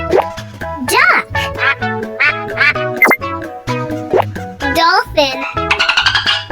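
A cartoon duck quacks in a children's alphabet lesson, brief nasal quacks set among cheerful music and a voice.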